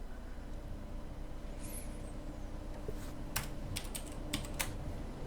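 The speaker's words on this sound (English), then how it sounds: "Just don't type too long. Or too loud." Quick keystrokes on a computer keyboard, a short burst of separate clicks near the end, faint under a steady low background hum.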